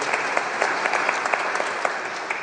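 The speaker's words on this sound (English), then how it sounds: "give yourselves a round of applause for that" Church congregation applauding during a Sunday service, an even wash of many hands clapping at moderate volume, with a few individual claps standing out close by.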